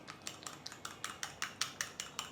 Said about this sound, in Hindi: बहुत अच्छी तरह विस्क कर लेना है।